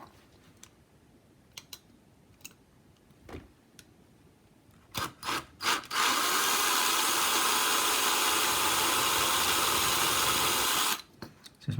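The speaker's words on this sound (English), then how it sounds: "I've got a 2mm bit on the drill to make a little hole" A power drill fitted with a 2mm bit bores into the rivet heads of a Hot Wheels Octane toy car, a loud steady whine lasting about five seconds after several short bursts and scattered clicks, then stopping abruptly.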